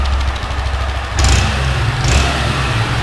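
Idling 160 motorcycle with a washer fitted into its small exhaust outlet, a close, steady low engine rumble that swells briefly in two short blips of throttle.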